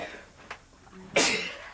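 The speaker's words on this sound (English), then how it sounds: "I'm allergic to dust, so I will be sneezing and things like that." A single sharp sneeze from a person allergic to dust bursts out near the end after a faint short sound, fairly close and quiet overall.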